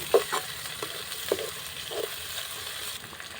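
Green chillies dropped into hot oil with frying masala for masala dosa filling give a steady, soft sizzle with a few faint stirring clinks near the pan.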